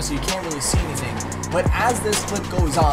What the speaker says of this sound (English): you can hear the cars backfiring